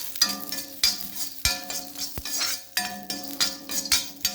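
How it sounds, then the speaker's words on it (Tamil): Chana dal dry-roasting in a pan over a low flame, stirred with a spoon that scrapes and clinks against the metal in a steady rhythm amid soft rattling of the lentils, close and clear without talk. "இப்போ கடலைப்பருப்பு ஒவ்வொன்றையும் தனித்தனியாக தாங்க போட்டு வறுக்கணும். சிம்மில் வச்சு தான் வறுக்கிறேன்."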